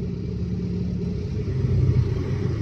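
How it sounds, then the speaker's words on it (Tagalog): Steady traffic on the road to New Clark City during a JDM car club anniversary run, a continuous low rumble of many car engines close by, swelling slightly near the end, with no voices. "Tignan nyo yung mga sasakyan."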